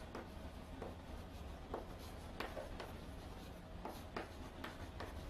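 Pen writing during an atomic-structure lecture, soft scratchy strokes in short irregular bursts over a low background hiss, fairly close and faint, without talk.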